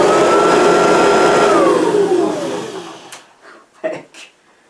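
Kirby vacuum cleaner switched on and running, a loud close steady roar and whine that winds down after about three seconds, followed by brief clunks and faint noises.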